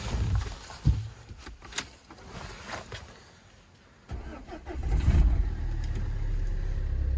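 A Renault car engine cranks and catches, a brief starter burst followed by a steady running idle that settles and grows louder toward the end, close by with no talk.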